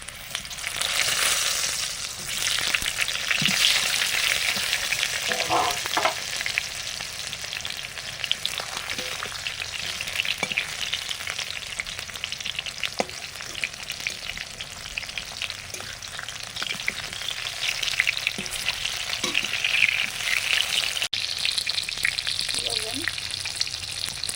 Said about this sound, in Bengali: সর্ষে তেল দিয়ে পাঁচ ফোড়ন দিলাম কাঁচা আম